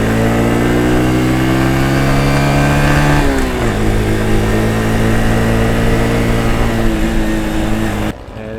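A 2013 Honda Super Cub 110cc motorcycle engine revs through rev-matched downshifts, steady droning pitch dropping sharply around midway then holding a lower hum, loud and close with no talk.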